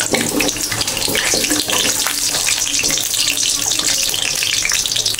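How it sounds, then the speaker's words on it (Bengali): Cooking oil going into a pan to fry potatoes, a steady loud hiss and sizzle like running liquid that continues unbroken for several seconds, with faint talk underneath. "প্রথমে আলু ভাজবো, আমি তেলটা দিয়ে দিচ্ছি।"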